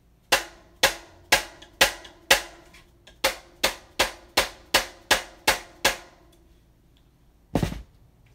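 A hammer strikes metal in a steady series of about thirteen sharp, ringing blows while fitting wheels on a Lynskey bicycle frame, then a final duller knock after a pause.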